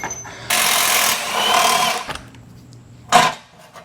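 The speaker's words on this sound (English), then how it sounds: "Now I'm going to use the impact wrench." Impact wrench loosening 17mm rear bumper bolts on a 2021 Ford Bronco: a loud buzzing burst of about a second and a half, a pause, then a short sharp final burst, close up in a garage.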